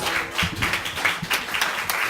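An improv comedy audience applauds together, a dense stretch of quick clapping that holds at a steady level.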